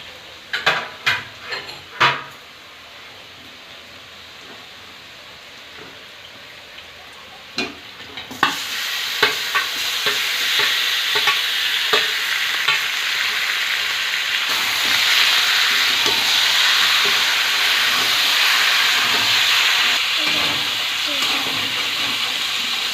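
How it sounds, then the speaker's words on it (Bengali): Marinated chicken stir-frying in a pan with onion, ginger and garlic: a few sharp clatters and scrapes first, then a loud continuous sizzle with hissing steam and occasional stirring knocks, building and holding steady, with no voices. "মাংস 5 মিনিট কষাই করে নিয়েছি"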